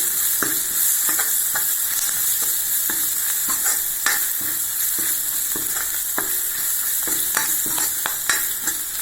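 A generous handful of curry leaves crackles in hot oil for a kuzhambu, a loud constant sizzle with light stirring taps scattered throughout, close up and without speech.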